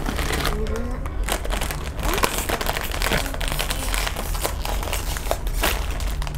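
A crinkly plastic toy surprise bag is being torn open close up, giving continuous rustling and crunching with sharp crackles throughout.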